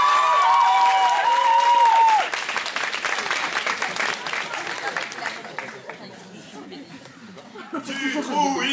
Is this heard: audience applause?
yes